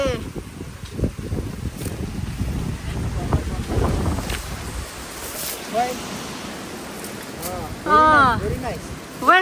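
Strong wind gusts across a Nepali mountain hillside where grass is being cut, buffeting the microphone with a rough, rumbling roar while voices call out intermittently.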